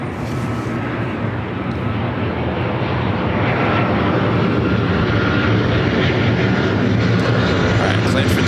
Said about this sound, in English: Call left to Korean Air,